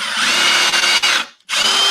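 A power drill runs loudly and steadily, boring countersink holes into wood, its whine briefly cutting out and then starting up again near the end.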